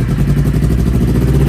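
Several parked motorcycles are started one after another in rainy weather, giving a close, steady low engine rumble with a clattering, pulsing idle that runs continuously throughout without a break.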